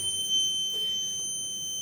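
A torque wrench beeps steadily as bolts are tightened during an engine rebuild on a Mercedes W124 300CE, a sustained electronic tone held throughout at close range with no speech.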